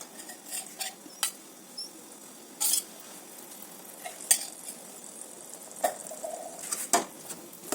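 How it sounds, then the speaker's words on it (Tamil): Ashoka halwa being stirred with ghee in a pan, a soft steady sizzle broken by intermittent scraping clicks of the spoon against the pan, fairly quiet and without talk. "நெய் சேர்த்து நல்லா மிக்ஸ் பண்ணிட்டு இருங்க."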